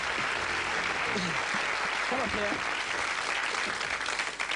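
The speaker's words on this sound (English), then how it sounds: "Big round of applause for Graham" Applause from a studio audience on a magic show as a volunteer is called up, continuous clapping that stays steady while someone speaks briefly over it.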